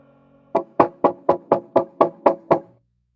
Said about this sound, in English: A soft knock on the door broke her concentration.